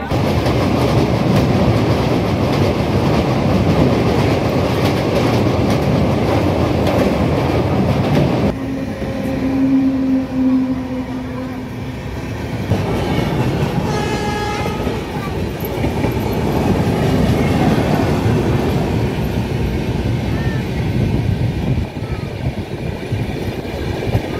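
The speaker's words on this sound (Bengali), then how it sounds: "আমাদের ভাইজ্যাক যাওয়ার train Howrah 12863 up SMVB Bengaluru super express 22 নম্বর প্ল্যাটফর্মে দিয়ে দিয়েছে।" Howrah–SMVB Bengaluru superfast express train 12863 running, heard close as a loud, continuous rolling rumble with a brief tonal whine midway and a steady rail roar throughout.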